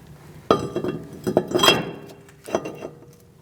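Metal clinks and clanks as a brake rotor is set onto an anti-seize-coated front hub of a 2002-2006 Toyota Camry, a sharp opening hit followed by several close taps and a later pair of knocks.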